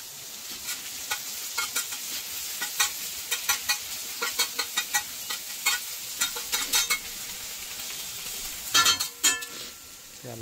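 Onion, ginger-garlic paste and tomato fry in a pan with a steady sizzle while a spoon stirs, scraping and clinking against the metal in quick irregular bursts, close up, with no voices.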